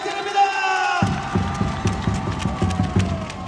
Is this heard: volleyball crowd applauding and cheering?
yes